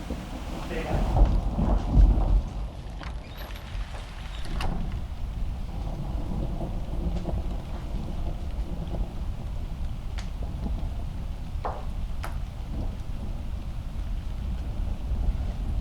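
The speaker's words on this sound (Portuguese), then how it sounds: "sai nessa chuva." Steady rain falls during a thunderstorm, a broad continuous wash with a heavier rumbling swell near the start and a few faint distant cracks of thunder later on.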